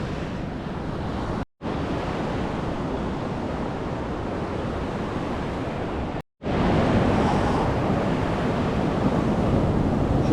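Ocean waves roll onto Canggu beach in Bali, making a loud, continuous wash of surf mixed with wind noise, broken by two brief cuts.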